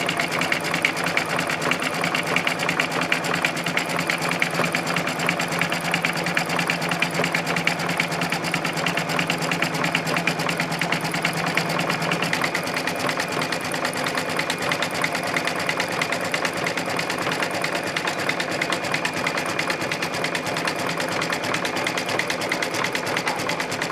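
Embroidery sewing machine stitching a triple tack-down over batting, a rapid, even mechanical chatter running nonstop and close by, with a slight shift in tone partway through.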